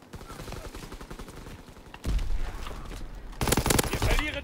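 MP40 submachine gun fire in Call of Duty WWII Domination multiplayer: rapid, dense bursts of automatic shots with other gunfire mixed in, growing louder toward the end.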